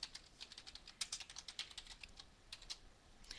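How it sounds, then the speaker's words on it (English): Rapid, irregular keystrokes on a computer keyboard, soft and close, clattering in quick bursts with short pauses and no talking. "When you type in this box"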